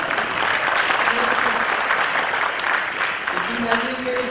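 An audience at a tribute gathering held by a literary club gives a steady round of dense applause that stays loud and even throughout, with faint voices now and then.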